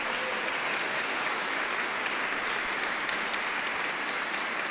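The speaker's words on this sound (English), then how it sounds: "I think we can give them rounds of applause." An audience at a choir concert applauds the bass player, a steady, full wash of clapping from a large crowd that holds evenly throughout.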